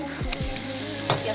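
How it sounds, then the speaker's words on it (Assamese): Onion fries in a pan for chicken curry, a brief, even sizzle with a couple of soft stirring knocks. "পিঁয়াজটো অলপ ভাজিব"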